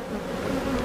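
A honeybee colony hums with a dense, close, continuous buzz while a hive is opened for inspection after swarming, steady and unbroken for the short moment.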